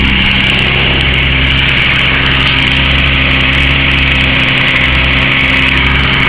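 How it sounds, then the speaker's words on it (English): A 164E car engine idles steadily and loud up close, an even mechanical hum with a brief dip in its low drone near the end, no voices over it. "Now it's running fine."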